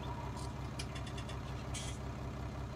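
A virtual tractor engine idles in Farming Simulator 19, a steady low pulsing drone with a few brief clicks and ticks on top.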